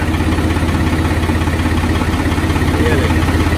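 A Ghazi tractor engine idles close by with a loud, steady, pulsing low throb that continues evenly from start to finish.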